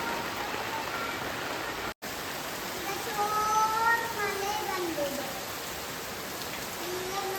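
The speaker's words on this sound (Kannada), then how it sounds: "ಈಗ ಮಳೆ ಜೋರು ಬರ್ತಾ ಉಂಟು" Steady heavy rain pours down on a poultry farm in a dense continuous hiss, with faint children's voices in the background.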